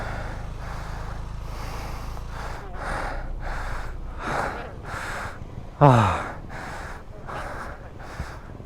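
Heavy, rhythmic panting after pushing an old Yamaha LC135 motorbike, about a dozen close breaths in a steady cycle, with one sharp loud gasp or snort partway through.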